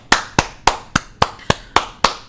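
Eight sharp hand claps in a steady, slightly uneven rhythm, loud and close, each with a short decay and no talking between them.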